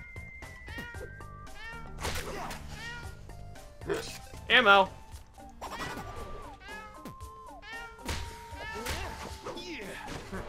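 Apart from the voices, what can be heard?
kitten gun meowing in Adventure Time video game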